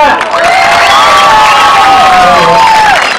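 A lively crowd in Mar del Plata bursts into loud cheering, whoops and applause, dense and close, with high shouted voices over the clapping for a brief moment.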